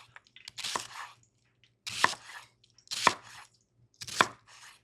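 Knife chopping onions on a board for a high-fiber Mexican beans dish, heard as four separate bursts of quick, crisp cuts spaced about a second apart, close and fairly quiet, with no talking.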